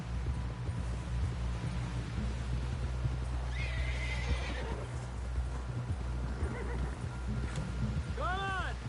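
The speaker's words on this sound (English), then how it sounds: "Someone help John down off this horse." A horse whinnies loudly near the end, with steady hoofbeats and a low rumbling background throughout, and voices faintly underneath.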